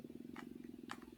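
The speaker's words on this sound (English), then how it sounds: "That was my stomach." A person's stomach growls in a low, rhythmic rumbling gurgle pulsing steadily like a purr, close and quiet, with a couple of brief higher squeaks partway through.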